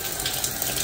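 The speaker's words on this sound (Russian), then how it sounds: "Там мало воды, сейчас мы туда нальем, окей?" Water runs steadily from a tap into a sink or basin, filling it to dissolve a bath bomb; a close, continuous splashing rush with no voices over it.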